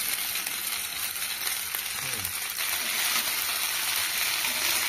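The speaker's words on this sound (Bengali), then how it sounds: "হলুদ গুঁড়ো দিয়ে একটু নাড়াচাড়া করে ভেজে নিতে হবে।" Turmeric powder and chopped green chillies being fried and stirred in a pan for egg pasta, a soft continuous sizzle with faint stirring scrapes.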